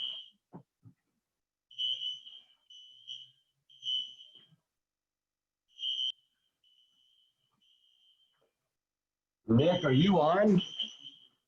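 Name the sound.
office fire alarm going off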